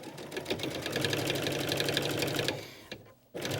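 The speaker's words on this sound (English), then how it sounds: "This is just basic straight stitching, but with a double row straight stitching, you will get a very professional look" A sewing machine runs straight-edge stitching on a jacket, a rapid, even mechanical chatter up close that keeps going for a few seconds, then slows and stops briefly before starting again.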